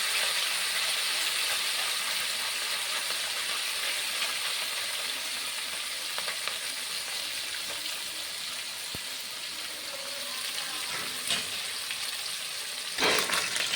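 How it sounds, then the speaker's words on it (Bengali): Small mourala fish frying in hot oil give a steady, dense sizzle and hiss throughout, with a few faint clicks and a brief louder crackle near the end; no voices. "তেলটা গরম হয়ে গেছে, মাছগুলো তেলে দিলাম।"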